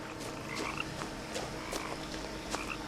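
Frogs croak in the woods around a house in What Remains of Edith Finch, and several repeated calls rise over a dense, steady night ambience.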